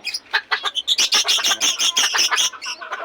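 Hungry captive kapagaw birds squawking and chirping before afternoon feeding, a rapid, continuous run of loud, close, shrill calls from several birds overlapping for about three seconds.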